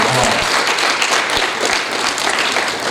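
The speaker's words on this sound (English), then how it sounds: "Let's give all of our speakers in the intermediate division a round of applause" An audience at a school MLK program claps for the intermediate division speakers, loud and sustained, with individual sharp hand claps standing out near the front and some voices mixed in.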